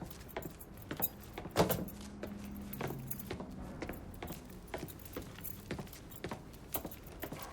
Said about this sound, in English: Lincoln, pick up the keys